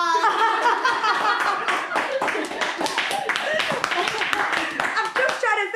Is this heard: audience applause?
yes